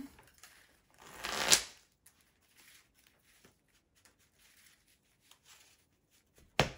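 Playing cards are riffle-shuffled in one quick burst during a Modern Magic: The Gathering match, followed by soft handling rustles, light taps and a final sharp snap close by.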